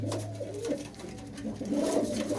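Pigeons of fine breeds kept by a Punjabi fancier coo steadily in low, rolling murmurs, several birds close by with overlapping calls and no talk.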